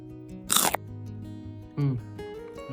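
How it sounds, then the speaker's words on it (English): A single sharp crunch from biting into a crispy taco crunchwrap filled with ground beef, cheese and cilantro, with a softer second chewing crunch moments later over a low background hum. "Now let's bite into this taco crunch wrap."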